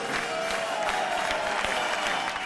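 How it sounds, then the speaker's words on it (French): A packed theater audience at comedian Vincent Moscato's sold-out show applauds and cheers, a dense, continuous roar of clapping mixed with crowd noise at fairly moderate level. "Tous sont venus applaudir Vincent Moscato."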